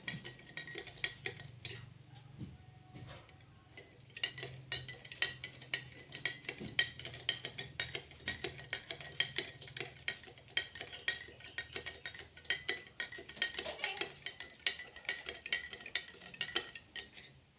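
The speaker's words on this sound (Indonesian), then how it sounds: "Kita kocok perlahan-lahan." Salt water being stirred in a glass with a spoon to float an egg: steady, rapid metallic clinks and scraping against the glass, continuous and fairly faint throughout.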